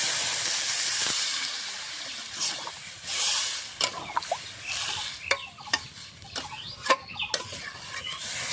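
Water poured into a hot pan of frying potato and stem curry sets off a loud steaming hiss that fades, followed by scattered sharp sputters and pops, close by.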